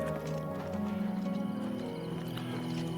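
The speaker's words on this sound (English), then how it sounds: "the Black Horse Courier lady came back for her horse" Horse hooves clip-clop in a quick, steady rhythm in the video game Oblivion Remastered, played in VR, a muffled close patter over a humming game backdrop.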